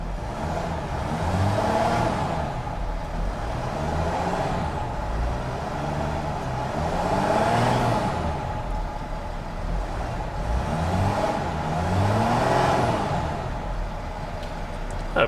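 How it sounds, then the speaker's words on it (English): A 2010 Mercedes-Benz Sprinter custom limousine engine idling steadily, then revving in several rising and falling sweeps spaced a few seconds apart, close and loud with no speech. "Not a bad sounding engine."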